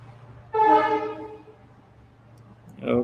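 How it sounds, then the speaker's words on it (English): A passing train sounds its horn in a loud, sustained blast of about one second that fades out, over a steady low hum, followed by a brief rising noise near the end. "Another train passing."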